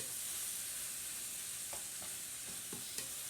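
Ground beef with seasoning sizzles in a hot skillet while a spoon scrapes and stirs it, a soft steady fry with a few short clicks of the utensil.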